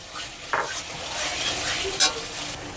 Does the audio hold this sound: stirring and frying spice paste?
yes